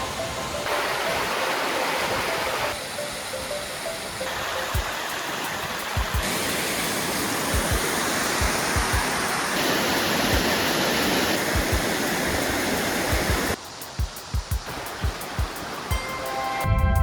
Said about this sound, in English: Another stop worth taking is at Eas Force Waterfall, a multi-drop fall which ends in a precarious cliff top